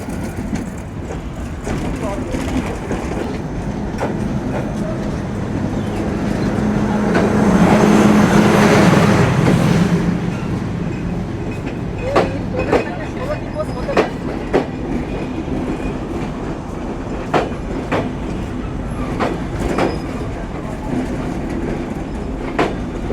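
Mongla Commuter train, number 763, rolling into a Bangladeshi station, a loud swelling rumble as the cars pass close by, then fading into sharp clicks of wheels over rail joints, with people talking nearby.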